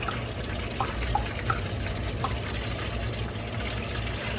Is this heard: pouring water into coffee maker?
yes